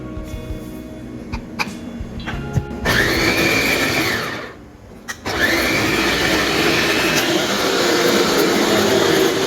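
A blender grinding ginger, green chili and garlic into paste whirs loudly for a few seconds, pauses briefly, then starts again with a steady grinding roar.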